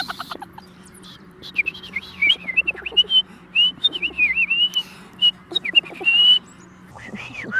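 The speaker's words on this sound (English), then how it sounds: "it's hearing that European robin," A European robin sings a run of clear, fluting whistled phrases with short pauses between them, fairly close and loud against a quiet background.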